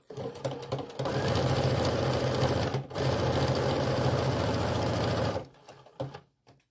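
A sewing machine runs fast and loud, stitching the last seam of a striped snowflake pillow with fuzzy appliqué, in two long bursts separated by a short pause, then a few brief stitches.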